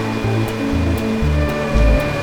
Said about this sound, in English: This is our vacuum machine on reverse. Blowing air out, right?